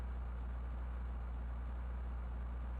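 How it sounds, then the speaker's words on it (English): Steady low car engine idle from Microsoft Flight Simulator, a constant high-idle drone with no change in pitch throughout, alone and moderately quiet. "the engine sound of this thing is pointless. It just sounds like it's on high idle the whole time"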